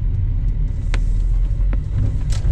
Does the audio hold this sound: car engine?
yes